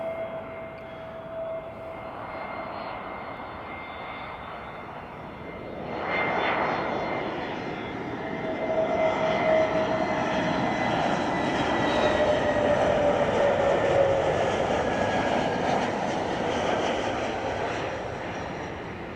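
Airbus A321 with brand new, fuel-efficient jet engines at Lanzarote Airport, a steady broad roar that swells partway through and holds loud and continuous, with a faint whine riding on top.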